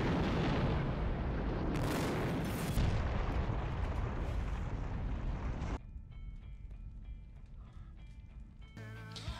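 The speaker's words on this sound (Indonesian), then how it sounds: "mobil pun meledak" A car explosion: a loud, rumbling blast with crackling debris fills the first half, then cuts abruptly to quieter background sounds with faint tonal elements.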